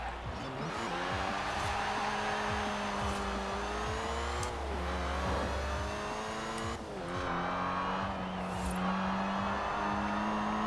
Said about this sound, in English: That supercharger whine.